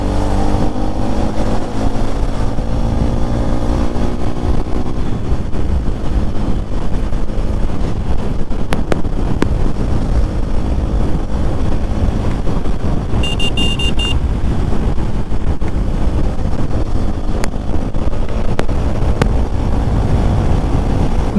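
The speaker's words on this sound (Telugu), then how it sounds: "బండి కూడా మంచి దూకుడు మీద ఉంది ఈరోజు బాగా" A motorcycle ridden through heavy Sunday traffic after a recent service, its engine a loud continuous drone with strong wind rush over the microphone throughout, a brief high beep from passing traffic partway through.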